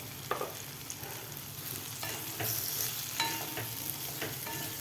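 Eggplant bhaji with crushed peanuts gets stirred in a pan, quiet scraping strokes over a soft steady sizzle, close and fairly faint, with no voices.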